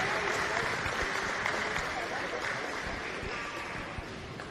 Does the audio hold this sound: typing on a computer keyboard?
no